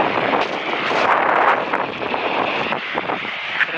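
Strong wind buffets the microphone outdoors at Kelavarapalli Dam, a steady, loud rumbling roar with gusty surges that fills the whole clip and has no voices.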